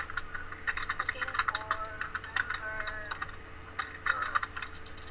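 Someone types on a computer keyboard in quick irregular bursts of clicking keystrokes, close and clear, with brief pauses between runs.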